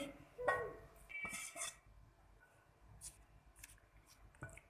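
Rice being served onto a platter for a mutton rice dish: faint clinks and taps of a spoon against dishes, a few sharp metallic knocks among soft scraping, quiet and close.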